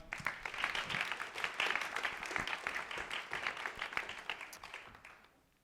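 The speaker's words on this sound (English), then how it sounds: "Give them a round of applause." A church audience at a mission Sunday service gives a round of dense, steady applause that stays strong for several seconds, then fades out at the end.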